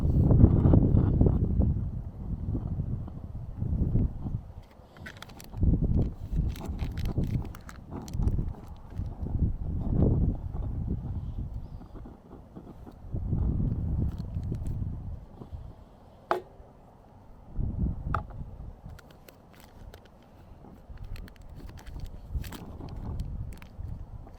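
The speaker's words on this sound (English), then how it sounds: "You can really hear the wind blowing now." Wind blowing outdoors at a campsite where a Swedish mess kit is being burned, heavy low gusty rumble buffeting the microphone in irregular surges, with occasional small knocks and handling noises.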